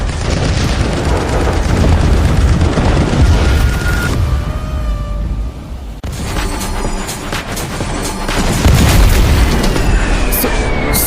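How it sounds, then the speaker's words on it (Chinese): A warship's close-in defense guns fire amid explosions in a dense, loud, continuous barrage of booms and rapid bursts. "报告舰长，近防炮系统已激活，请求开火许可。"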